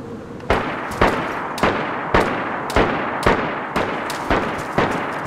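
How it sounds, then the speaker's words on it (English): Gunshots from an enemy in the DayZ video game crack out one at a time, about ten sharp reports at a steady rhythm of roughly two per second, each trailing a short echo over a low ambient rumble. "I do believe he's shooting at me, you know."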